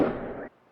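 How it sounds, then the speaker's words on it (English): Fireworks go off in a short, loud burst of crackling and booming that fades to quiet after about half a second. "Why are people launching fireworks?"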